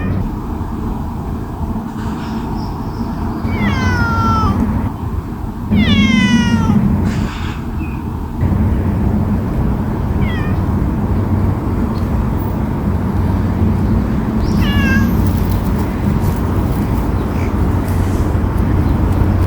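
A cat meows outdoors several times among grass and flowers, loud rising-and-falling calls in short bursts separated by pauses, over a constant low rumble of distant traffic.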